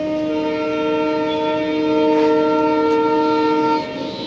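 A train horn sounds in a long, steady, harmonic blast at a railway station platform in the early morning, loud and sustained for several seconds before cutting off.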